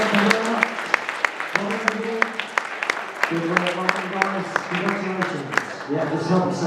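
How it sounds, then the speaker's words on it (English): Scattered, sparse claps ring out at a tournament prize ceremony, sounding under and between continuous talking. "Let's give these guys a big round of applause."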